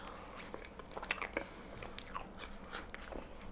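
Close-up bites into banana pudding topped with a vanilla wafer, giving soft crunches and wet chewing in a quick irregular series, quiet and near, with no talk.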